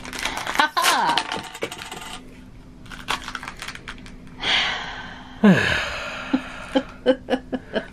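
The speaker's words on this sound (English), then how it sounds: "Those pins sprayed all over the room." A bag of metal mystery pins spills and scatters across a room, a bright clatter of many small metal pieces hitting and bouncing, with a gasp, chuckles and people talking around the scattered clinks.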